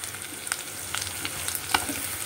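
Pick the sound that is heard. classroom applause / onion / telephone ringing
onion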